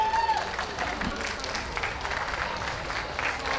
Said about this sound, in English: a big round of applause for our judge, David